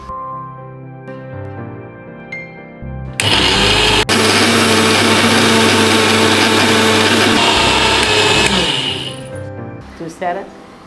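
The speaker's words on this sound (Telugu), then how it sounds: "కొద్దిగా పసుపు వేసి మిక్సీ పెట్టాలండి." A kitchen mixer grinder runs for about six seconds, grinding pulusu spice powder with turmeric, asafoetida and salt. Its loud, continuous whirring motor begins abruptly and then winds down.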